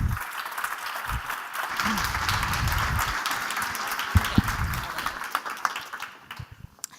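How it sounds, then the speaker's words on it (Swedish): A Swedish audience gives a warm round of applause for a poet before her reading, dense clapping filling the room for several seconds, fading slightly toward the end. "Ge henne en varm applåd."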